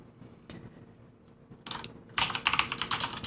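Computer keyboard typing while entering FreeBSD network configuration: a few scattered keystrokes at first, then a dense, rapid run of loud, close clicking.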